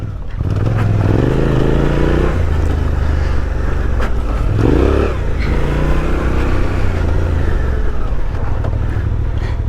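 Several personal motorcycles, including a Suzuki V-Strom, riding a pine-straw-covered dirt trail loop: a loud, continuous engine drone close by, with rising and falling revs as the bikes accelerate and shift.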